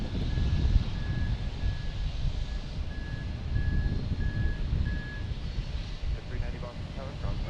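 Aircraft tug at an airport giving a steady series of regularly spaced reversing beeps over a low rumble of engine and apron noise, moderately distant.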